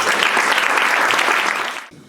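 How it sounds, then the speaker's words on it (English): Loud, close applause from an evening-talk audience welcoming speaker Sebi, a dense burst of clapping that stays strong and then drops away abruptly near the end. "give a huge round of applause to Sebi"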